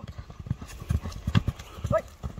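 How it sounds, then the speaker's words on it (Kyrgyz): Hooves of a young horse for sale clip-clop at an outdoor showing in Kyrgyzstan, a quick uneven beat near and fairly loud, with people talking over it. "Сникерс кайманатындагы атты аз-аздан чабып көрөлүнү"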